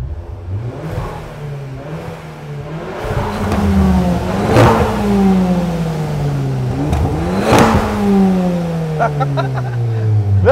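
An Audi S1 engine revs up repeatedly, rising and falling in pitch through several gear changes, loud and close from inside the car.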